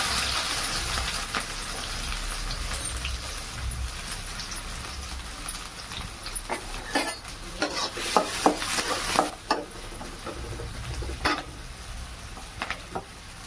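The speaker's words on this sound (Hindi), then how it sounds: "तापर सुखिला लंका पकेवा। पियाज पकेवा।" Dried chilies and onions fry in hot oil for a dried prawn dish, a steady sizzle with scraping stirs that grow busier and louder toward the end.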